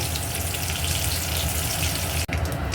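Duck eggs fry in hot oil with a dense, continuous sizzle that stays loud and close throughout, briefly dipping near the end.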